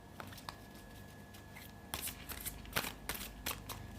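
Tarot cards are shuffled by hand in quiet, close riffling bursts that grow a little busier in the second half, with no talking.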